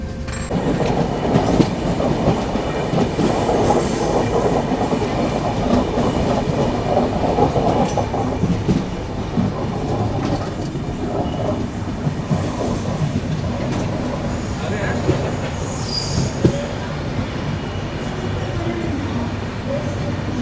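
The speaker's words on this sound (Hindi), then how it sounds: "निकलने को ट्रेन तैयार है" The Trivandrum–Bangalore Humsafar Express pulls out of a station with a continuous close rumble, rattling carriages and occasional high wheel squeals.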